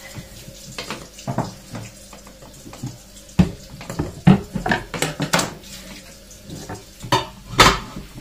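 Sliced food is rinsed again under a running kitchen tap, with water splashing against a bowl and irregular clinks and knocks of dishes and utensils in the sink, close and fairly loud, no talking.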